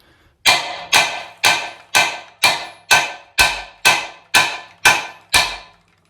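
Ten sharp metallic hammer blows strike a bicycle headset in a steady, evenly spaced rhythm, each ringing briefly before the next hit, loud and close with no talking.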